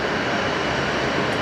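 A jet airliner departing Brisbane Airport at night, producing a loud, continuous engine roar that stays steady throughout.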